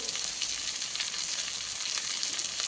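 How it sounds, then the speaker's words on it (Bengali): Slit green chillies and Kashmiri chilli powder fry in hot oil in a pan, giving a loud, steady bright hiss of sizzling that runs without a break, with no voices. "এই চেরা কাঁচা লঙ্কাগুলো দেবো। একটু কালারের জন্য কাশ্মীরি লঙ্কার গুঁড়ো দেবো।"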